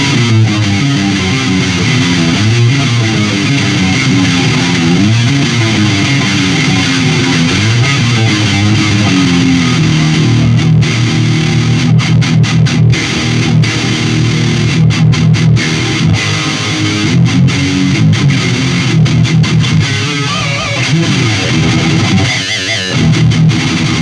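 Electric guitar driven through the distortion channel of a Randall RH100 amp head, playing heavy metal riffs and chords that stay loud and saturated throughout, with brief choppy stops near the end.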